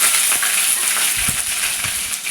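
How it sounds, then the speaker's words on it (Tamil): Curry leaves, bay leaf and dried red chillies fry in a little hot oil for paneer gravy, making a continuous close crackling sizzle with soft stirring knocks underneath. "கொஞ்சமாக எண்ணெய் ஆட் பண்ணிவிட்டு நமக்கு எடுத்து வச்சுருக்க கருவேப்பிலை, பிரியாணி இலை, காஞ்ச மிளகாய் இதெல்லாம் நல்லா வதக்கிக்கலாம்"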